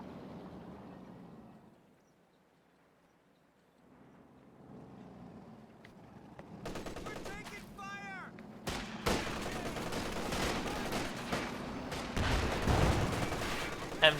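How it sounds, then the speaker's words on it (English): Machine gun suppression fire in the Company of Heroes video game, starting quiet and building into sharp, rapid bursts and volleys of battlefield gunfire that grow denser and louder toward the end. "MG getting some suppression running there"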